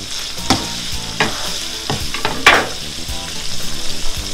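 Shrimp and beef frying in a pan for a rice dish are stirred, with a steady close sizzle broken by several distinct scraping stirs, one louder stroke midway.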